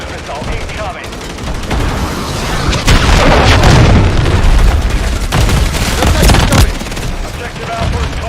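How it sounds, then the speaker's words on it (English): A cruise missile strike in a military shooter game lands as loud, rolling booms layered with scattered gunfire, swelling in the middle and fading slightly, under ongoing in-game radio voices. "Hostile cruise missile incoming."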